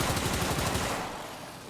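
Rapid automatic gunfire in the Warframe video game, a loud dense stream of shots at close range that tapers off and fades toward the end.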